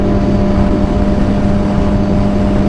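Suzuki GSXR 750 motorcycle engine with an aftermarket exhaust pipe and muffler drones loudly and steadily, a constant close engine hum with a strong low tone and no speech.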